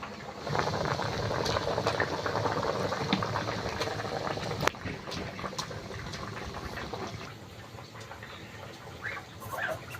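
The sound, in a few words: curry boiling in a pot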